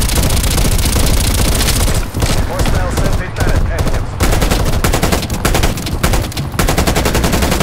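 Sentry turret gunfire in Black Ops Cold War on the Nuketown map: rapid, loud, close bursts of automatic fire with brief pauses between volleys.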